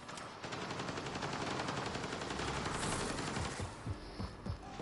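Rapid automatic gunfire from a weapon in the video game Mass Effect: Andromeda, a sustained dense burst of shots that breaks into a few scattered single shots near the end.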